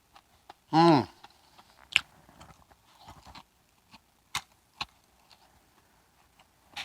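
Bites of crunchy oven-baked onion rings give scattered, crisp crunching clicks spread over several seconds, with a brief voiced sound near the start and otherwise quiet gaps between chews.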